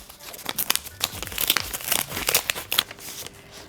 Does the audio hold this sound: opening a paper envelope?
yes